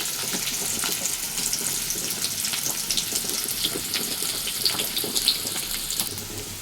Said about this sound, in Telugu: కట్ చేసుకున్న మీడియం సైజు ఆనియన్ కూడా వేయించుకోవాలి